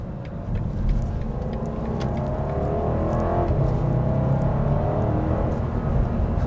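A 2020 BMW M550i on its stock exhaust with active sound design switched off gives a subdued, continuous engine drone with a gentle rise in pitch, quiet and steady with no talking over it.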